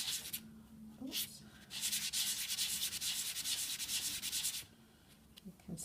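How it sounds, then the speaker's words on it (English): A piece is being sanded by hand toward a smooth, flat finish, making close, rhythmic abrasive rubbing strokes. Short bursts come first, then a long, steady stretch of continuous back-and-forth scraping before it slows. "It's a fine balance between sanding too much and sanding your piece away"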